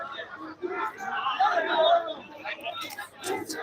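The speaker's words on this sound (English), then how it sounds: "the crowd is growing" A street protest crowd in Lagos against bad governance, a murmuring babble of many voices rising and falling over a few seconds, moderately near, with no single voice standing out.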